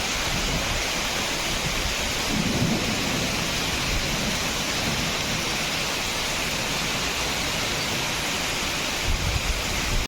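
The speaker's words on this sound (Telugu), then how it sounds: "కొత్తపేటలో ఉరుములు, మెరుపులు, భారీ ఈదురు గాలులతో కూడిన వాన పడుతోంది" Heavy rain falling during a thunderstorm with strong gusty winds in Kothapeta, a dense, steady, close hiss with low rumbling swells and no voices.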